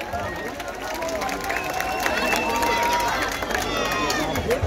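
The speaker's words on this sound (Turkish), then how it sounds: "Alkışların en güzelini onlar alabilir miyiz acaba?" Crowd noise from an audience at a live shopping-mall concert, Vega AVM, a steady wash of clapping and cheering with a faint voice over it, held at a fairly even level throughout.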